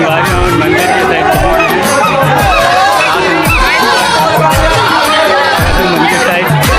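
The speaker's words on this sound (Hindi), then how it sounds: "मंदिर साइड बहुत ही आवाज़ आती है, बहुत ज़्यादा भीड़" Dense, loud crowd chatter fills the air near a temple at Dalha Pahad, many voices overlapping continuously with occasional shouts and bangs standing out from the steady hubbub.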